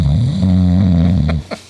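A person snoring in a steady, droning run of deep rasping breaths, loud and close, the snore cutting off abruptly near the end, with no talk over it.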